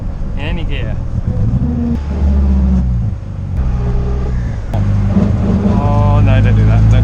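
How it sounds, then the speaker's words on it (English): A K-series-engined MG Midget drives on the road while its drivetrain whines as the throttle is lifted. A steady close engine drone carries a rising and falling tonal whine throughout. "If you remember the noise that the gearbox was making, just if you lift off, you get that whine in any gear."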